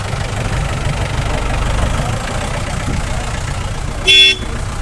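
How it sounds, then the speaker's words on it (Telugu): Jeeps idle and set off near the Srisailam temple, with a steady rumbling engine drone throughout and a short loud horn toot near the end, heard close up without talk. "ఇప్పుడైతే స్టార్ట్ అవుతున్నాయి బండ్లు"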